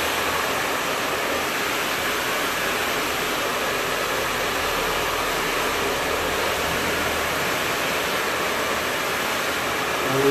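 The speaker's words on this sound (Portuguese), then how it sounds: "O Toninho e a Irlane estão secando ali o cabelo" A hair dryer runs steadily in a salon while hair is dried after a layered haircut, giving a constant, loud rushing whoosh that holds without a break for the whole stretch.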